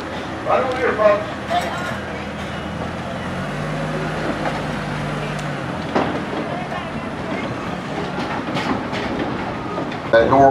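A red tour train rumbles along steadily with a low engine drone and occasional clatter, while people talk over it throughout.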